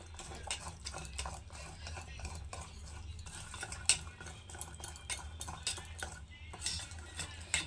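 Biscuit cake batter thinned with a little milk is whisked steadily in a bowl, with repeated quick scraping and tapping strokes heard close and fairly quiet over a low background hum.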